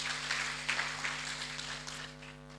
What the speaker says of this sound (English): Round of applause to Alois, please.